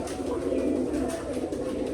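Pigeons in a home loft coo on a rainy day, a low, rolling throaty call repeating nearby, soft but distinct over light background noise.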